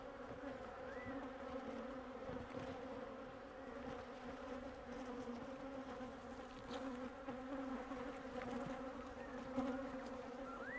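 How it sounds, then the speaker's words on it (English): Honey bees hum in an open hive from a strong colony filling several boxes, a dense, steady buzz that stays close and constant throughout, with faint bees flying past. "A lot of bees in there, in all the boxes."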